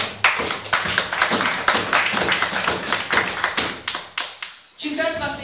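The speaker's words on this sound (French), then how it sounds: "Acclamez très fort pour la parole du Seigneur." A church congregation claps hard and fast in an energetic, continuous round of applause that fades near the end, with a voice coming in just after.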